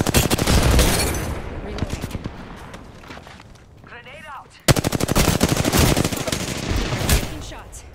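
Rapid automatic gunfire in the video game Apex Legends, dense bursts of close shots, a brief lull with a whooshing effect, then another long sustained volley, with voices talking over it.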